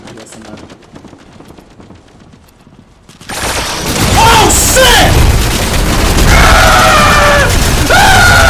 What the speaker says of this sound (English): They out there shooting.